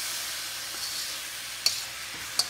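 Soaked rice is stirred in a hot pan, giving a steady close sizzle and hiss with two sharp clinks of a utensil against the pan.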